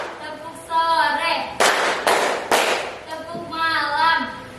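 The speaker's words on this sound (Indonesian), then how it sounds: "Tepuk pagi, tepuk siang, tepuk sore," A school class chants in unison and claps together in a rhythmic pattern, four sharp bursts of group clapping set between stretches of chanted voices in a classroom.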